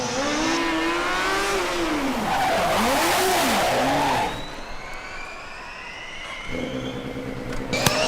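A Formula Student race car on an endurance lap at the FSG22 event roars past with a rising engine whine and Doppler sweep, then fades into the distance before another car's engine note rises nearby.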